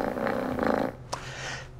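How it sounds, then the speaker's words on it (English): A kitten or cat purring up close, a low rhythmic rumbling pulse that fades after about a second into quieter breathy noise, with no voices. "Purring is a complicated vocalization."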